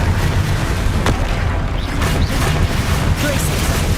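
A Confringo blast spell explodes in Hogwarts Legacy amid rapid spellcasting combat, a loud, sustained booming crash with sharp bursts and rumbling debris over several seconds, close and dense.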